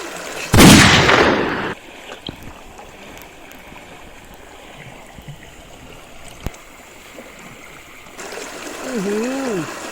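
One loud, close cannon blast bursts out near the start of a scene in a Thai action comedy film, then fades into a low, quiet rumbling ambience.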